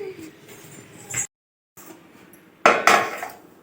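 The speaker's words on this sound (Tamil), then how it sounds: "பாத்திரத்தை வச்சு" A cooking pot set down on the stove while preparing chicken kuzhambu, heard as a couple of sharp metallic clanks with handling noise and a voice in the background.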